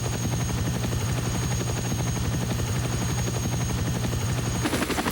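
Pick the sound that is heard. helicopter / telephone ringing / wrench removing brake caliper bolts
helicopter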